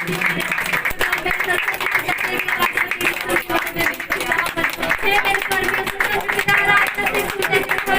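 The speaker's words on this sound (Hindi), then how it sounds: "जोर से तालियां बजा।" Church congregation at a Sunday Holy Communion worship meeting clapping loudly, dense steady clapping throughout under singing voices and music.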